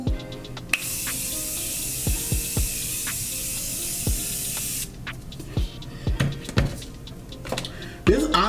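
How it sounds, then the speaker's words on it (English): A setting spray misted onto a face from 1 to 5 seconds as one long, close hiss, followed by scattered light taps and handling noises. "So I'm going to just get started on this side now and just start spraying"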